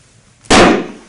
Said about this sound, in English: So start with the axe, please.